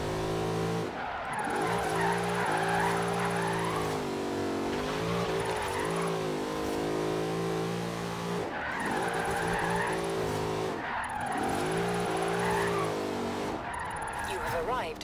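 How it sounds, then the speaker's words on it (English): Forza Horizon 3 car engine revs in repeated surges while tires squeal through long skidding slides, several drifts back to back, loud and synthetic-sounding. "I think it's a drift sound."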